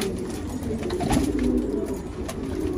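Pigeons give soft, low cooing calls in a loft, with a rounded warbling coo swelling near the middle over a faint, steady background.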